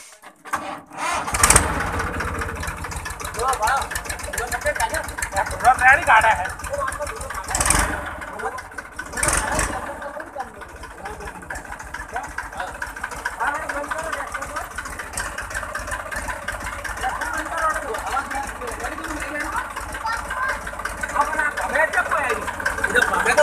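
A tractor's diesel engine cranks and catches, then settles into a steady idling rumble with a few knocks, as people talk nearby.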